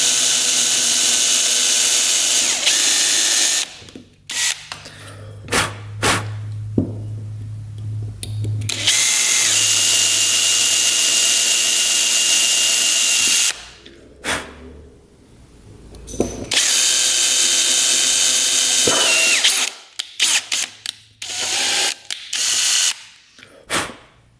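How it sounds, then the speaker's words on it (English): A power drill bores out a carburetor cap on a brand-new dirt bike, whining in loud bursts that stop and start with short pauses between, close up, mixed with ratcheting clicks and tool handling. "Might just drill that cap out."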